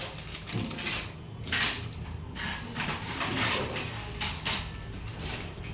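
Sweet chutney stirred in a metal pot while making ghughra, with a steady run of scraping and clinking spoon-on-pot sounds, close and moderately loud, with no talking.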